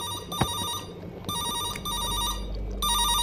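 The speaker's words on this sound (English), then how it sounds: "Phone's ringing." Telephone ringing in the horror game The Bad Kids, an electronic trilling bell in repeated bursts separated by short pauses, moderately loud over a faint low background hum.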